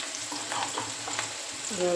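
Onion tempering frying in oil for bottle gourd and potato pav bhaji, a steady close sizzle with faint scraping stirs, a soft tonal note rising at the end, with no voices.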